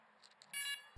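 A DJI Spark drone emits a short, faint electronic beep during a firmware update, a few soft chirps followed by a slightly louder sustained tone, heard alone and close.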